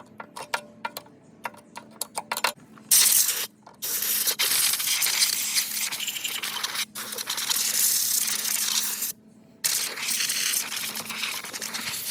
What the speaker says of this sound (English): So we'll get the compressed air back out, get a screwdriver and kind of poke that down and blow it out.